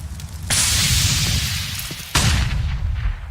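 A gunshot rings out in a CS:GO match, a sharp broadband crack followed by a bright sustained burst and a second loud report about two seconds later, set over a dense low rumble of game sound.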